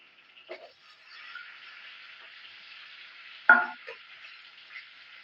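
Ivy gourd (tondakaya) fries quietly in a pan with a steady soft sizzle, and green chillies dropping in cause a sharp brief hiss partway through.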